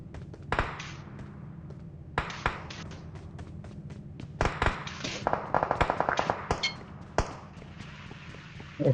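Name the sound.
gunshots in PUBG Mobile video game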